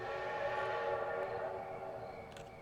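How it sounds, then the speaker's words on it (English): A train passing in a video game, heard as a sustained tonal whistle or horn over a low rumble that slowly fades, with a few clicks near the end. "Ooh, there was the train. I missed it."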